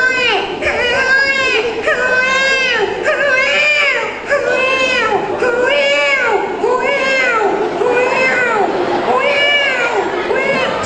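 A human voice imitates a newborn baby crying and a cat meowing, producing a rapid series of wailing, rising-and-falling cries that run continuously and loudly for about eleven seconds.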